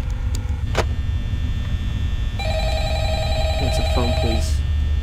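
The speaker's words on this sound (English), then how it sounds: "Answer the phone, please." A phone rings in the video game Five Nights at Freddy's 3, a repeated electronic trill starting partway through over a constant low hum and background noise, with a couple of brief clicks earlier.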